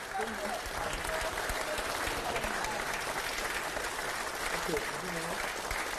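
Steady audience applause fills a Korean party caucus meeting welcoming a presidential candidate, dense continuous clapping from a crowd held at an even level, with a voice speaking over it.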